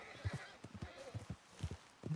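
Horse hooves clip-clop at a walking pace in Red Dead Redemption 2, a rhythmic sequence of soft thuds, fairly quiet, with faint game ambience and no talking.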